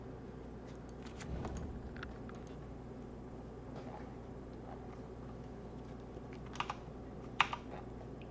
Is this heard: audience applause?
no